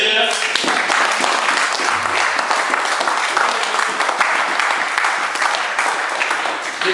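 A church congregation applauds the Lord, sustained dense clapping at steady strength throughout, with some voices mixed into the applause.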